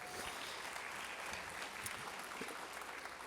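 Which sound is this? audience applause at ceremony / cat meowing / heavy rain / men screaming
audience applause at ceremony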